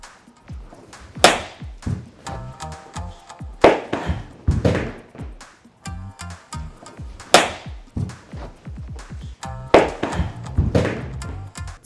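Shakuhachi bamboo flute used as a weapon in Japanese martial arts combat, giving repeated hard thuds, taps and whacks at an uneven fighting rhythm, close and loud with rustling movement between strikes.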